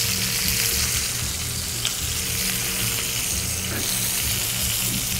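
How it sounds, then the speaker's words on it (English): Chicken searing in a hot skillet, a loud steady sizzle with scattered pops and crackles filling the clip, no voices. "Press it down. You're gonna hear popping and you're gonna feel it."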